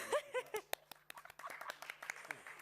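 A small audience at a talk by illustrators gives faint, scattered claps that thin out over a few seconds, with brief talking at the start.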